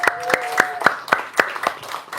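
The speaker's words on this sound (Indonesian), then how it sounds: "Coba tepuk tangan dulu dong." A small group claps about eight times in a steady rhythm, close by, with a tonal voice or whistle underneath.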